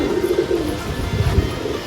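High flyer pigeons cooing nearby in a flock, low throaty coos rising and falling in repeated soft phrases, fairly loud and close with no talk.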